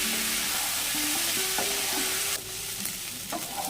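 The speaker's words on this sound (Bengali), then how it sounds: "আমরা পটলগুলোকে লাল লাল করে ভেজে নেব" Loud, steady sizzling of pointed gourd pieces frying in hot oil, with scraping stirs and clinks of a utensil against the pan, no voices.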